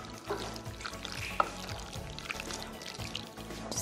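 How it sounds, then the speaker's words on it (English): Sugar is stirred into cooking boba pearls until it melts. The mixing makes a continuous wet, bubbling sound with faint clinks, close by and at a moderate level. "so you got to keep mixing until the sugar is all melted"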